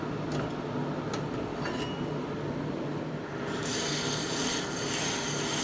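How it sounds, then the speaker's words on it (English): A rotary sanding bit grinds and rubs steadily at wood between carved vines on a lathe-turned banjo shelf. The rasping scrape is close and continuous, with brief ticks and clinks, and grows brighter and louder partway through. "Then I switched over to this sanding bit after I finished clearing out the"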